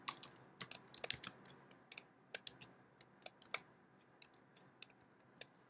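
Typing on a computer keyboard: sparse, irregular key clicks, close and fairly quiet, with no talking.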